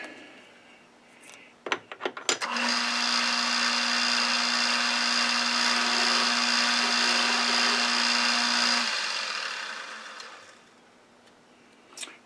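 A metal lathe cuts a chamfer on a workpiece for an annular cutter holder, with slight chatter. A few sharp clicks lead into a loud, steady whining drone that lasts about six seconds, then winds down and fades.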